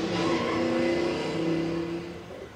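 Steady street traffic in Redcliffe, Bristol, with a loud car engine passing close by, droning continuously and then easing slightly as it moves away.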